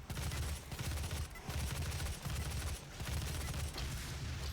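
Micro missile gunfire in DOOM (2016) fires in rapid, dense bursts of pounding shots, with short pauses between volleys and a low rumbling underneath.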